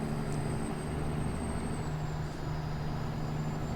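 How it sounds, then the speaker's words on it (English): Heavy garbage truck idling and rumbling steadily in American Truck Simulator, a constant low engine drone with a faint high whine, moderately loud and alone without talk. "right there you can see a garbage truck he just pulled out"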